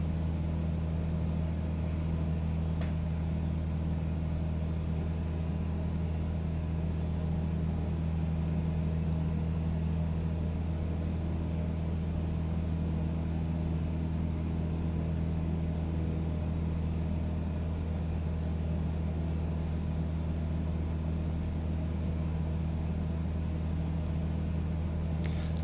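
Cessna 172SP piston engine in Microsoft Flight Simulator, throttled back to reduced power around 2500 RPM, droning as a steady, loud low hum with no pauses, heard alone without talk.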